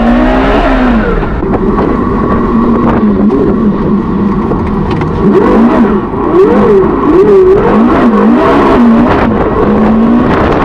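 A Porsche Carrera GT engine revs loudly and continuously, the pitch rising and falling in repeated swoops as the car is driven hard, close and dominant throughout.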